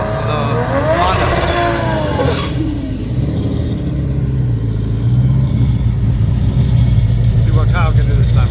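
A Toyota Supra and a Honda launch side by side in a list race, engines roaring loud and steady throughout under a constant crowd and announcer talk, with the revving building toward the end.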